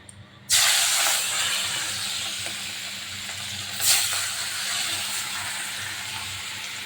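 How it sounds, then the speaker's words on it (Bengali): Katla fish pieces dropped into hot white oil, a sudden loud sizzle that bursts in and holds as a steady frying hiss, with a brief flare midway, close and alone. "তো সাদা তেল ভালো করে গরম হয়ে গেছে, মাছগুলো আমি হালকা করে ভেজে নেব।"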